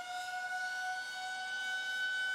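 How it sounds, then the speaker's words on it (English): A steady, droning air raid siren wails from a distance, holding a sustained tone with no voices over it. "an air raid siren go off from somewhere outside"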